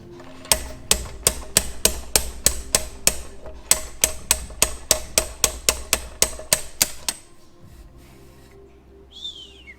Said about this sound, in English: get some heat on it and you should be able to just tap this thing right out